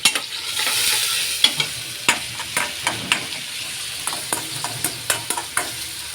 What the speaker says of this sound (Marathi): कांदा टाकला, तेल टाकलं, मोहरी टाकला, जिरं टाकला, नंतर टाकला कांदा.